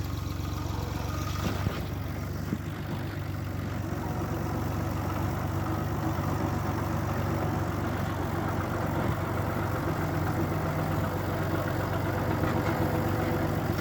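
A 1972 Chevrolet Suburban idles as it slowly backs up to a trailer, a steady low engine rumble holding evenly at moderate distance with faint outdoor background and no voices.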